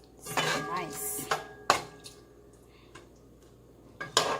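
Utensil scraping and knocking against a pot while stirring Jamaican saltfish rundown with all-purpose seasoning, a few sharp metallic clinks and scrapes with quieter gaps between them, close and fairly loud.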